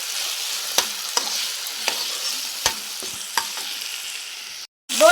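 Finely chopped potato pieces sauté in a hot pan, a steady close sizzle broken by about half a dozen sharp scrapes and taps of a spoon stirring through them, with a brief dropout near the end.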